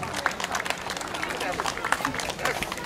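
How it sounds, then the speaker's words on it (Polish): Audience applauding for a performer at a show, busy clapping from many hands mixed with crowd murmur and shouts, sustained and fairly near. "Brawa dla pana Andrzeja"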